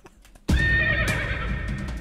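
A horse neigh used as a sample in electronic music production bursts in suddenly after a quiet start, a loud, drawn-out whinny with wavering pitch that fills the rest of the clip.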